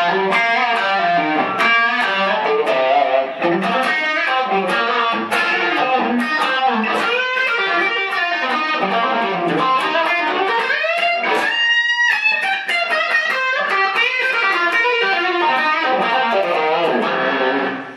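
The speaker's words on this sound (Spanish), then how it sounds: "estoy subiendo el nivel de distorsión de pedal, la mugre analógica que genera el circuito" An electric guitar played through an analog distortion pedal with the distortion level turned up, producing a sustained, gritty, loud run of picked notes and chords that continues without a break and is heard alone.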